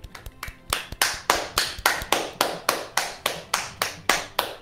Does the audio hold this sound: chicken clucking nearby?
no